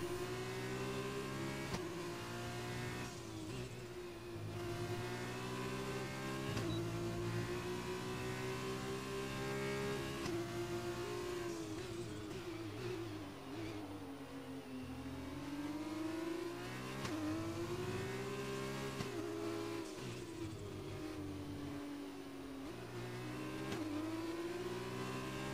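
An F2 race car in an Xbox racing game accelerating out of the pits at the Spanish GP on soft tyres, its engine whining steadily up and down through gear changes.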